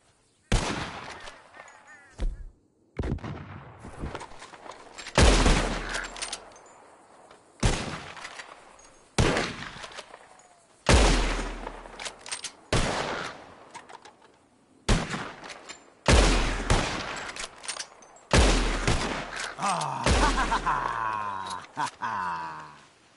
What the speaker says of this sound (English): You shoot four birds out of the sky before me, you win.